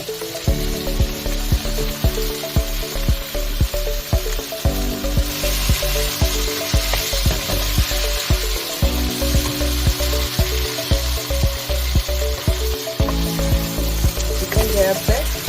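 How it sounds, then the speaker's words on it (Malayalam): Chicken is stirred into a hot pan with tomato ketchup for Indo-Chinese chilli chicken. Loud, constant sizzling frying runs throughout, with frequent scraping and clattering strokes of the spoon against the pan, close up. "ഇനി ഇതിലേക്ക് ചിക്കൻ ചേർത്ത് എല്ലാം കൂടെ ഒന്ന് മിക്സ് ചെയ്യണം"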